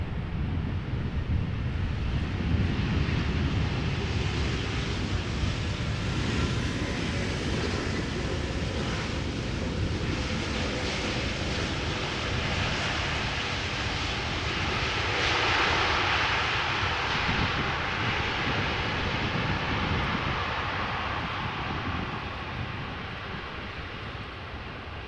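Embraer KLM City Hopper jet arriving at Amsterdam Schiphol Airport, a broad roar of engines heard from a distance that swells and then slowly fades, with wind buffeting the microphone.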